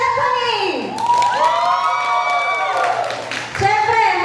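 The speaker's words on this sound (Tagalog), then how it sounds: "pakinggan na lahat ang sigawan nyo" Party crowd at a Christmas gathering shouts and cheers loudly for Stephanie, a sustained roar of voices and yells filling the room, with a host speaking over it.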